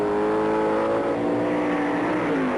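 Vintage drag racing cars, a Mustang and a Plymouth, accelerating hard down the strip in a Super Stock race, a loud continuous engine roar with pitch climbing and a slight falling sweep near the end, no talking.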